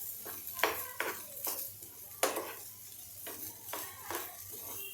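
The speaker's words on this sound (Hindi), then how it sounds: "अब हम इस मूंग दाल को मिला लेंगे।" A spoon stirs moong dal into kachori masala in a pan, making repeated scraping strokes with a soft sizzle underneath and a low steady hum, no talking.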